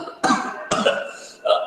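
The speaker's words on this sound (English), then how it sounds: "I started coughing itself" Three sharp coughs ring out close to the mic, two strong bursts in quick succession and then a softer one after a pause, each breaking off abruptly.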